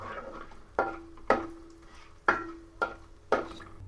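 Whole spices such as cloves fry in hot oil before onion goes in, with five sharp metallic clacks of a utensil against the pan over a soft, steady sizzle.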